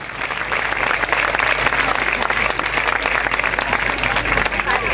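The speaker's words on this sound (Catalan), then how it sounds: "per als quals demano un fort aplaudiment desitjant-los el millor" Loud, sustained applause from an evening festival audience, a thick steady roar of clapping that holds at full strength throughout, with crowd noise mixed in.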